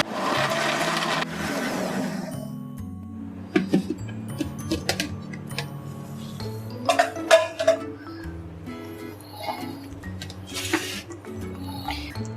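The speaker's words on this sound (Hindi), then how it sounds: "अब इसको ब्लेंड करेंगे।" A blender whirs loudly at first through peaches, apple, lemon juice and ice, then stops, leaving clinks of glass and dishes and a few scattered knocks.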